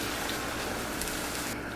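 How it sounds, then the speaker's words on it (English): Water poured into a pan of cooking beans makes a steady, rushing, splashy gush that carries on evenly throughout at moderate loudness, with no speech over it. "I'm adding in some water"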